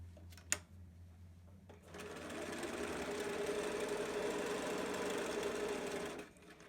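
A sewing machine stitching fabric for a zipper pouch runs in a steady, even hum for several seconds after a couple of sharp clicks, close by and alone without talk.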